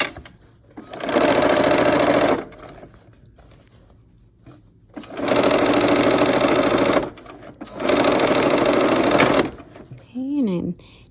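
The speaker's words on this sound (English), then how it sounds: "so you'll sew the green sashing strips" A sewing machine stitches green sashing strips onto a quilt block in three loud, steady runs of a couple of seconds each, separated by quieter pauses, with brief talk near the end.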